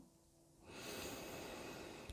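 Slow, audible inhalation through the nose during a sophrology breathing exercise, a close airy intake swelling up after a quiet moment and holding steady.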